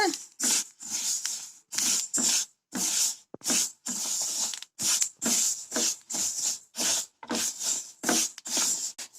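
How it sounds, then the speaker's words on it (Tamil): Sesame seeds dry-roasting in a pan give bursts of crackly, hissing sizzle as they are stirred, roughly a dozen close, loud pulses separated by short gaps, with no talking. "நாம வறுக்கும் போது அது லைட்டா பொரியும். பொரியிற சத்தம் வரும்."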